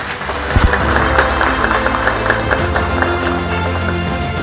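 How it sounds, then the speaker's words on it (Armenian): An audience at a university olympiad award ceremony claps for the teachers, a broad steady wash of applause heard over background music. "եկեք մի հատ ծափարենք ուսուցիչներին"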